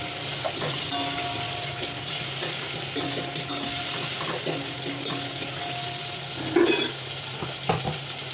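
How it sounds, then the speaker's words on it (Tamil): Onions and tomatoes with a little salt frying gently in a pan for sambar, a soft continuous sizzle broken by occasional stirring clatters and a brief louder scrape, close, without voices. "வெங்காயம் நல்லா வதங்கிட்டு இருக்குது."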